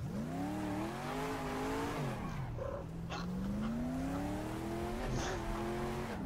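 Race car engine in the GTR 2 racing game, restarting and revving with rising and falling harmonic pitch sweeps, loud and close, with brief tire squeal and no talking.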